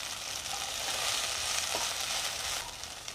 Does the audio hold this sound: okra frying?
yes